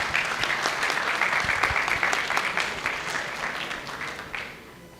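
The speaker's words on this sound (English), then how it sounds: "Please welcome him with a warm round of applause." A crowd at a university orientation for B.Tech and BCA students gives a speaker a warm round of applause, steady and full throughout, then tapering off at the close.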